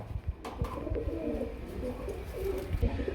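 A pair of white Mumbai pigeons coo in low, rolling murmurs, close and continuous, with a few soft wing or cage taps mixed in.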